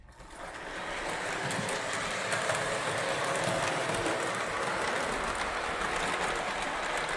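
A Marx 1666 toy steam locomotive hauls freight on a toy track, making a steady, close mechanical whir and rattle. It rises within the first second and holds at an even level, with no voices.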